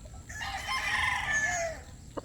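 A Kelso gamecock rooster crows once, a long loud call rising and falling, with faint background noise and a brief cluck at the end.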